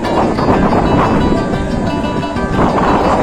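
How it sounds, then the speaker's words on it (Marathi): Strong wind blows across an open bullock-cart race ground in Panvel, a loud, steady roar buffeting the microphone with no speech. "इकडं वातावरण बघा असला वारा"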